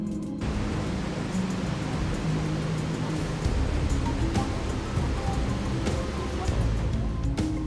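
The Detian waterfall in China roars as a constant broad rushing wash of falling water, steady and fairly loud throughout, while a voice talks over it.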